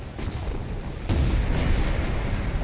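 Artillery fire rumbles in Company of Heroes, a low, heavy, continuous roar with a sharp blast just past the one-second mark that leaves the booming louder afterward.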